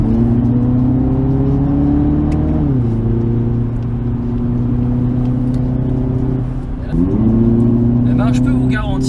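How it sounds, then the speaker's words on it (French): A 2020 Audi TT Roadster 45 TFSI in dynamic mode accelerates hard, its exhaust droning loudly and rising in pitch through several gear shifts, with a brief dip at each change and a faint crackle near the end. "vous avez comme un échappement qui se libère un peu plus"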